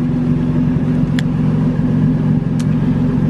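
A Toyota Tacoma X-Runner with a Flowmaster Super 10 muffler rumbles nearby in a steady, deep, aggressive exhaust drone with a pulsing low beat, loud and continuous throughout.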